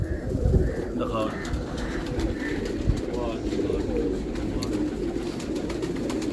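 Pigeons kept for pigeon flying in Karachi coo softly and repeatedly under continuous conversation between several men.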